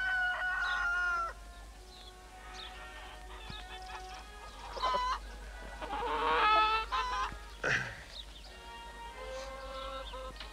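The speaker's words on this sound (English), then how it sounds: "Good-looking chickens." Chickens cluck and a rooster crows at a roadside service station, the fowl sounds fairly close and steady across the whole stretch with no talk over them.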